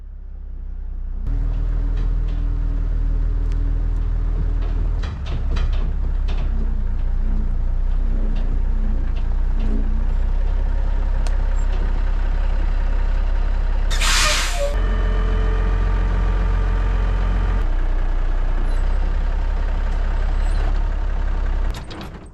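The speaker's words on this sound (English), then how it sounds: "let's start my dump truck and back it up in here" Dump truck engine cranking to life, then a deep diesel idle and rumble while it backs into a shop building, with an air brake hiss partway through and clanks, loud and close.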